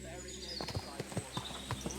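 Horse hooves clip-clop at a steady walking rhythm in the medieval game Kingdom Come: Deliverance II, a run of distinct close thuds with faint ambient background.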